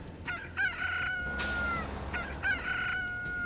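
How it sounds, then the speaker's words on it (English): A chicken in Transport Fever 2 crows and clucks twice in a row, each call a loud, drawn-out cock-a-doodle-doo with short clucks, separated by a brief burst of broadband noise. "The chicken sounds pretty annoying."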